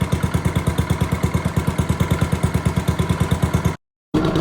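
A HoverHearts 99cc gas bike engine idles with a steady, rapid putter and a faint clattery edge, running close and loud before cutting out briefly, then picking back up.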